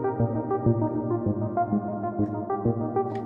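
An FL Studio Flex synth pad preset runs through an arpeggiator, stepping out a quick, even pulse of notes in a repeating pattern, clear and alone with no talking.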